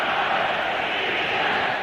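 A 200,000-strong crowd at the 1933 Nuremberg Rally in Germany makes a steady, dense roar of massed voices, loud and sustained throughout with no pauses.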